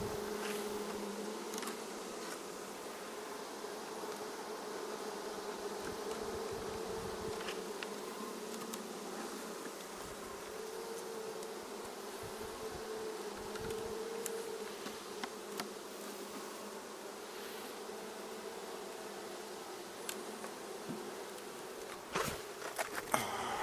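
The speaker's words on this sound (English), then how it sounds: "A good number of bees inside here." Dense, steady buzzing of many honey bees close by in a hive box, a continuous hum with occasional soft knocks and brushes.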